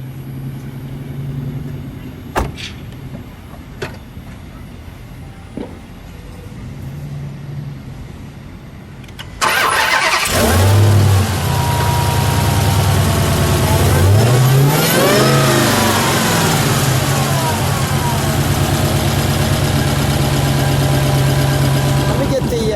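A 2018 Dodge Challenger Hellcat Hurst Heritage V8 fires up loudly about halfway through, after quiet shuffling and a few clicks, then roars through several deep revs that rise and fall before settling, close to the car.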